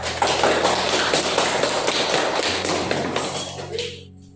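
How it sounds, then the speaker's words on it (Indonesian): Classroom applause for a student group presenting in a school lesson, a dense, steady clatter of many hands clapping together that fades out over the last second. "Kita beri aplaus untuk kelompok yang keempat."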